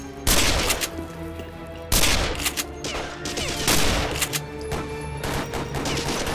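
Dense gunfire rattles through a Royal Marines Commando video game battle during Operation Attila, with loud overlapping volleys and bursts, sharp blasts near the start and again about two seconds in, and continuous shooting throughout.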